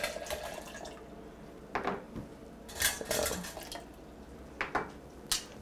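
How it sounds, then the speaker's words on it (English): Glass canning jars clink and knock as they are lifted from a pot of water during home canning of marinated red peppers, giving several separate, moderately close clatters with faint dripping between them. "I'm gonna get our jars out of the canning pot"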